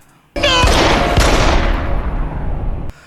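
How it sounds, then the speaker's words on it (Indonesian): A single loud gunshot rings out in a horror film scene, a sharp blast followed by a long decaying boom and reverberant tail lasting over two seconds. "Stephen terpaksa menembak kepala istrinya sendiri untuk melindungi Alice, putra sematawayang."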